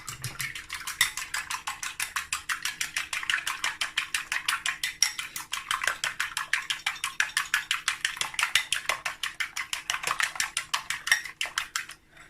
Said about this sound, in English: I'm going to break egg. I'm going to whisk.